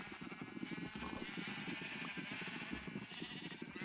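Sheep bleating in the Minecraft video game while being sheared, short repeated game bleats sounding over a steady backdrop of game ambience.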